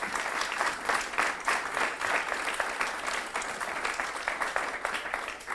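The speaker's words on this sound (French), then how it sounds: "On peut applaudir nos 2 intervenants." Steady applause from a seated audience for two speakers, a dense even wash of many hands clapping for several seconds without a break.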